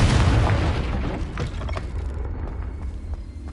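A Confringo spell blast in a Hogwarts video game opens with a loud, deep boom that rumbles and fades over a few seconds, followed by faint scattered debris clicks.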